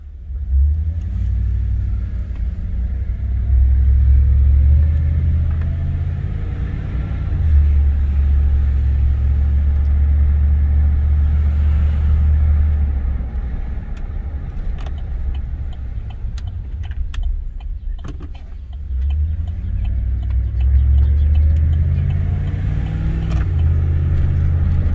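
A 2018 Chevrolet Silverado fitted with a Magnaflow muffler cruising through a neighborhood, its low exhaust rumble swelling and easing as it accelerates and slows, heard from inside the cab with no talking.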